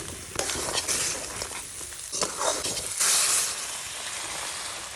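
Fried potatoes drop into crab curry masala, with loud bursts of sizzling and hissing in an up-close pan as the pieces hit the hot spices and get stirred.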